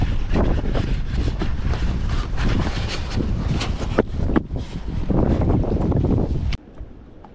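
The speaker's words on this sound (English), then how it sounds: "Boy, that wind." Strong early-spring wind buffets the microphone during bobber fishing on open water, a loud, continuous roaring rumble with gusty surges that drops away abruptly near the end.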